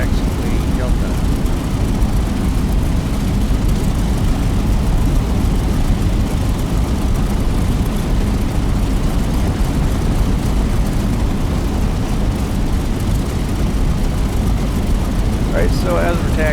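An aircraft taxiing in the DCS flight simulator game gives off a loud, steady engine drone with deep low rumble that runs continuously and evenly, close and unbroken, with only a slight change near the end.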